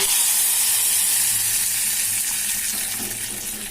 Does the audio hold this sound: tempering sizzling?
yes